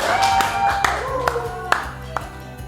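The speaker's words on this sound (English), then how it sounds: "A round of applause in studio." Sparse clapping from a small studio audience on a talk show, a few distinct loud claps spaced out over steady background tones, with a voice speaking faintly underneath.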